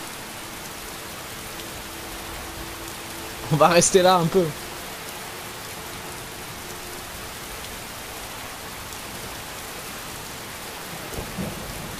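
Steady rain pours down in the video game Skyrim, a continuous broadband hiss filling the whole scene, with a brief distant rumble of thunder near the end; a voice speaks once partway through.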